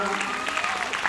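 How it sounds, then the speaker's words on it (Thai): Applause from a crowd, a dense wash of clapping with a tonal voice or music line running underneath. "ขอเสียงปรบมือดังๆให้กับพี่น้องทหารทุกตัวเราครับ"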